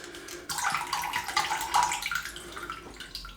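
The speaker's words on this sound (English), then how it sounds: "That tap always drips when I ask that." Water runs and splashes from a tap into a sink, a close, busy, continuous trickle that lasts a few seconds after a sudden start, with no talking.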